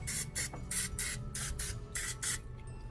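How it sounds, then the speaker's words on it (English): Cooking spray is misted over a muffin pan in a series of short hissing bursts, roughly eight quick sprays in a steady rhythm, close and clear, with each cup getting its own squirt. "So I'm going to spray my muffin pan."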